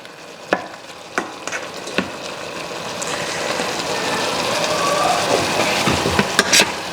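Goat meat pepper soup cooks in a covered pot with a steady bubbling sizzle that grows slightly louder over time, along with a few sharp clinks of the lid or a utensil.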